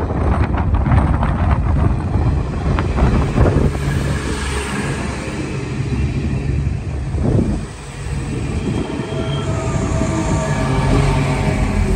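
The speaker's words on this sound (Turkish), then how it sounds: "Büyük tren geldi, gördün mü?" A big train arrives near a Turkish village, its heavy rolling rumble steady and loud under gusting wind noise, with a brief dip partway through.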